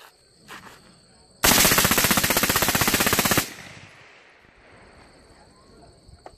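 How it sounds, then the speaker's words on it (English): Piston-operated rifle emptying a magazine at an outdoor shooting event, a loud rapid string of shots lasting about two seconds that stops abruptly, followed by quieter background noise and faint talk. "Jay, you want to shoot the next mag?"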